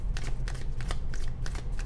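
Rapid riffling of a deck of tarot cards being shuffled, a series of crisp papery bursts close to the microphone, repeating every fraction of a second.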